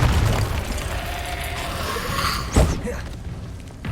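A Confringo blasting spell detonates in Hogwarts Legacy, one sharp boom rising out of dense, constant fight noise, then fading into a rumbling tail.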